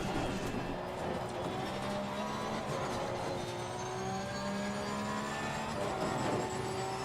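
A Porsche 991 II race car engine in the Assetto Corsa Competizione sim racing game, driven at Imola, drones steadily. Its pitch rises and falls repeatedly through gear changes, and nobody talks over it.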